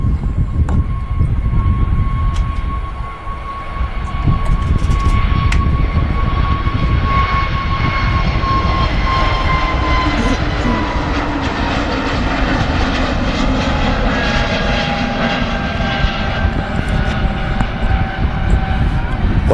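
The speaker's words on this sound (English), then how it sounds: "the Scandinavian Neo is now on the roll" A Scandinavian Airbus A320neo accelerates down the runway on its takeoff roll, a loud, building engine roar with a rising whine that shifts in pitch as the jet gathers speed.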